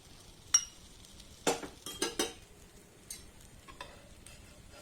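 An obbattu, a sweet flatbread made with chana dal, cooks on a pan with a little oil drizzled on top, giving a faint sizzle under a few sharp scraping and clinking utensil knocks, with no talking.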